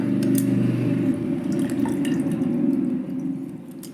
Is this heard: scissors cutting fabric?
no